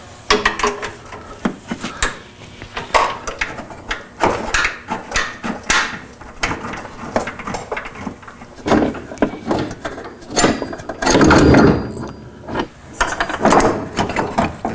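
A wrench works loose the bolt on a brake line bracket mounted to the frame of a 5th-generation Toyota 4Runner during a lift kit install, giving repeated metallic ratcheting clicks and clanks in uneven bursts, close up and alone.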